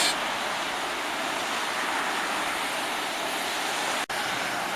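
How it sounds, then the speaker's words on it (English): Tidal drain water rushes through a culvert under Oropi Road in Tauranga, a steady broadband roar with a brief dropout near the end and no voices. "Here we have some footage of the drain as it runs through the culvert that goes under Oropi Road"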